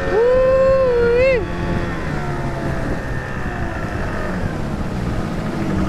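Two-stroke outboard motor on a jon boat in the Florida Keys, heard as a steady engine drone with wind and water noise; a rising and falling whine early on fades into a continuous running hum.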